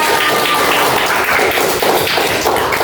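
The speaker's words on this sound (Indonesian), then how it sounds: "tepuk tangan untuk Intan." A crowd claps together, a dense steady patter of many hands that holds at the same level the whole way through.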